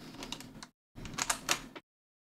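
Computer keyboard keys pressed in two short bursts of quick, faint clicks separated by a brief pause, heard alone in a quiet room.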